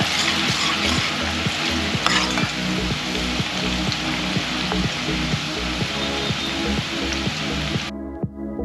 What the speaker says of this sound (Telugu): సన్నగా తరిగిన ఉల్లిపాయలు డీప్ ఫ్రై వేసుకోవాలి.